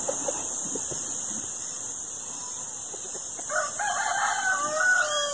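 A rooster crows on a rural smallholding, a fairly distant call rising partway through over a constant high drone of birds and insects in the trees.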